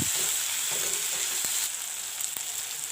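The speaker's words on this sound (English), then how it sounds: "Tomatoes are fried up." Tomatoes fry in a hot pan for a vegetable curry, a steady close sizzle with a few faint stirring clicks running throughout.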